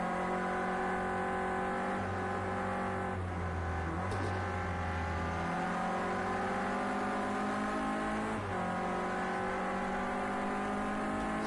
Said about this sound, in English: Just feathering the throttle.